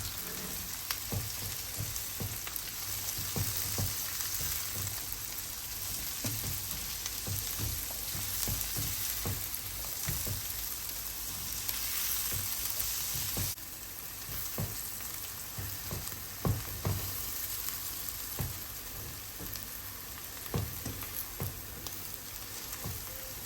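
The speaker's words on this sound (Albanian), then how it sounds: "I përziej mirë të gjithë perimet bashkë për pak minuta." Green pepper, carrot and zucchini stir-fry together in a pan, producing a steady hissing sizzle with frequent spatula taps and scraping as the vegetables are tossed, without any voices.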